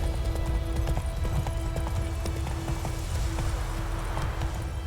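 Roach, Geralt's horse in The Witcher 3: Wild Hunt, trots with a steady clip-clop of hooves over a continuous game soundscape, the rhythmic beats close and clear throughout.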